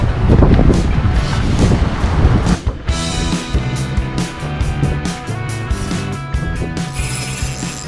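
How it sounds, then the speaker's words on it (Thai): Strong wind roars and buffets the microphone at a daytime coastal squid-fishing spot, loud and continuous, with a rapid mechanical clicking like a reel ratchet layered over the gusts. "จุดลมๆนะครับจุดลมๆนะครับ ตรงจุดที่มันลมเงียบกว่านี้นะครับผมนะครับ"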